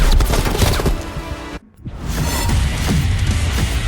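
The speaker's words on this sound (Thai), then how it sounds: "พวกซาวดเอฟเฟกอะไรอย่างเงี้ยพวกเสียงปืนเสียงระเบิดอะไรอย่างเงี้ย ถือว่าทำได้" Rapid gunfire and explosions crackle in the game Call of Duty: Black Ops Cold War, dense bursts of shots with a brief silent gap before the firing resumes loud and close.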